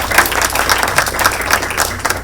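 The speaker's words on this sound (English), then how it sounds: "So let's give a big applause to them." An audience claps together in a dense, steady burst of applause that sounds fairly close and full. No voices rise above it.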